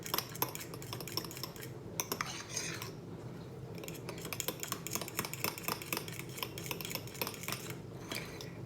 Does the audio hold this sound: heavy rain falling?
no